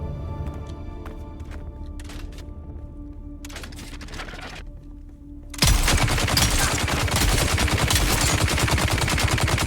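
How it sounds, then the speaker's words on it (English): A shotgun fires repeatedly in the video game Dune: Awakening, a loud, continuous barrage of blasts erupting after quieter game ambience, rapid and relentless to the end. "I like my new shotgun"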